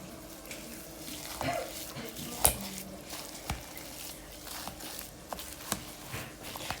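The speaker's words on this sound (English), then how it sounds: "And we're going to give that a good mix." Faint, scattered scraping and soft clicks as a mash seasoned with salt and thyme is stirred together for a chicken casserole, with a few sharper knocks against the bowl over a low background hiss.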